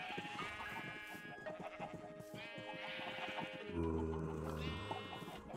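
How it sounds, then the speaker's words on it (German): Sheep in Minecraft bleat repeatedly in overlapping calls, loud and close, over busy game sounds and music with no talking. "ein paar Schafe werden verloren gehen, das ist leider einfach so."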